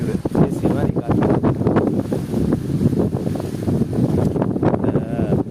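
Strong breeze buffets the microphone outdoors at a temple site on a sunny day, a constant rushing roar under someone talking throughout.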